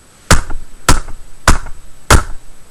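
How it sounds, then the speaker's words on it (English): Hands pat a lap four times in an even rhythm, each a close, dull thump with a soft, padded body and brief pauses between. "now pat your lap 4 times"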